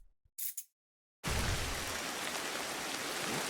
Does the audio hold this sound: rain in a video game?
yes